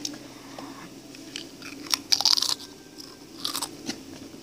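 Cheddar cheese Pringles chips crunched and chewed up close, with a few sharp bursts of crisp biting and a steady munching rhythm, no talking.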